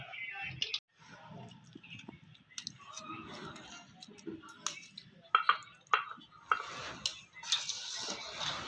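Multani sohan halwa is dished out of a pan with a metal utensil, giving quiet, close scrapes and sharp clinks that come in scattered bursts with short pauses between them.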